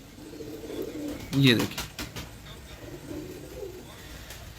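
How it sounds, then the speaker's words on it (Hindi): A Parel pigeon held in the hand gives a short, close coo amid light handling noise, while someone talks over it. "ये देखें, ये वाहिद कबूतर है"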